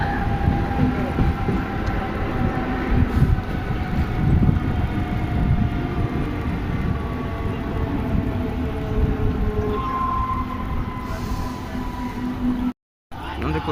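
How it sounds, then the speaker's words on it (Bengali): Express train departing a station on the Howrah–Tarakeswar line toward Arambagh, a sustained loud rumble with droning engine tones that builds over several seconds, then drops out briefly near the end. "আমাদের ট্রেন ছেড়ে দিল"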